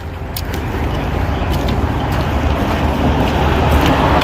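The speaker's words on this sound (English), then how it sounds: "Yep, and traffic." Freeway traffic near a bridge, a continuous loud rumble and roar of passing vehicles heard from nearby, building slightly over a few seconds with a few faint clicks on top.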